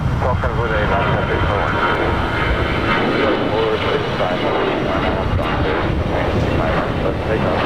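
An airliner roars down the runway on takeoff at LAX, a loud, continuous jet engine rumble with a voice talking over it.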